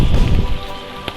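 Rain falls steadily on a wet road during a rainy spell, making a loud, continuous hiss that carries through a short moment, with no voices.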